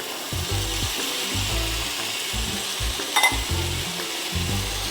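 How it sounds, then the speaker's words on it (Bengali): Chickpeas are tipped into sizzling, cooked-down masala and stirred, giving a rhythmic scraping against the pan over a steady fry hiss, with a brief clink partway through. "এবার আমি এর মধ্যে দিয়ে দেব এই ছোলাগুলো এর মধ্যে আমি দিয়ে দিচ্ছি"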